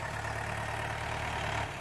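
Tractor engine running steadily in a field, a continuous low rumble heard at a moderate distance with no talk.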